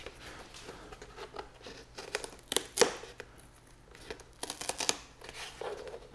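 Cardboard and paper packaging of an AMD Ryzen Threadripper 2990WX processor is torn open up close, with several sharp rips and crinkles coming in irregular bursts amid quieter rustling.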